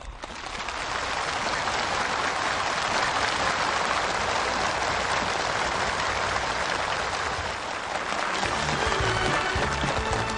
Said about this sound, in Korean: 전체 참가자들이 터치올리는 열렬한 박수와 격정의 환호가